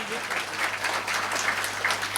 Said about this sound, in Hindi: एक बार पुरजोर तालियों से इस्तकबाल कीजिए